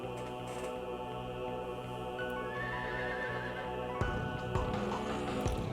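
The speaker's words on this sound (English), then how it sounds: "as you can probably tell from the neighing, we are dealing with one of the Horsemen of the Apocalypse, White Rider" White Rider's horse in Shin Megami Tensei: Nocturne lets out a high, wavering neigh midway over a dense, sustained droning game score, with a sharper burst of sound toward the end.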